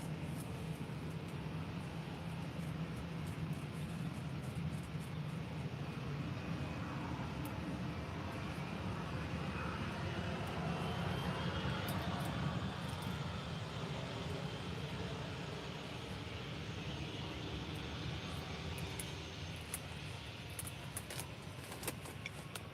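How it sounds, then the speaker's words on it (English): A Jet2 Airbus A330-200 takes off at Faro Airport, its engines a steady, broad distant roar that holds at even loudness throughout, with faint rushing noise and no voices. "So we've got now the super Jet2 A330 takeoff"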